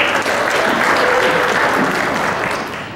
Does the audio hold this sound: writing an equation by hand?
no